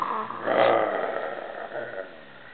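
A child imitates a lion's roar with a rough, breathy growl that swells near the start and fades over about two seconds, fairly close and alone.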